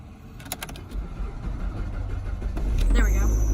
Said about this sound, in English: hopefully my car starts